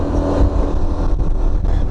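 A quad (ATV) engine drones steadily and loudly while riding a trail near Oliver, BC, on slightly oversized tires, with a continuous low rumble and slight surges in revs throughout.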